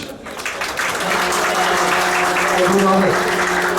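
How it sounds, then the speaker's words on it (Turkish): Applause for a girl named Duru receiving an award at a Maritime and Cabotage Day ceremony in Ayvalık, steady crowd clapping over a sustained tonal hum, with voices talking through it. "Duru kızımıza bir alkış."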